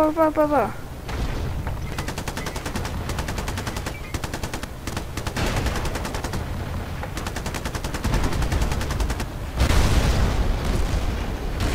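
Rapid, dense gunfire in the video game Battlefield, with repeated automatic bursts and booming shots running nearly continuously, loud and close, growing heavier toward the end.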